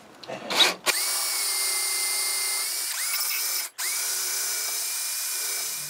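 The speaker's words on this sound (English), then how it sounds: "we're just going to drill this out now" A 22mm Morse taper drill bit mounted in a lathe tailstock bores an entry hole into a turned wooden ornamental birdhouse, with a steady close whine running for several seconds after a short clatter at the start.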